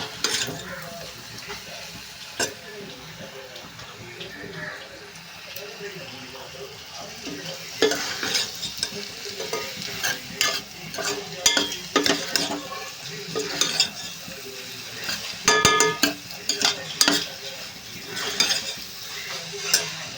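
Masala and chilli powder are stir-fried in a pan for Andhra-style egg bhurji, with a steady sizzle under repeated metallic spatula scrapes and taps that grow louder and busier midway.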